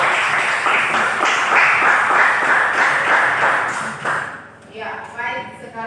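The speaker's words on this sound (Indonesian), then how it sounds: "Ya, berikan aplaus untuk kelompok 2" Applause for a student discussion group in a classroom, a dense patter of clapping hands at fairly close range that fades out after about four seconds into a quieter room.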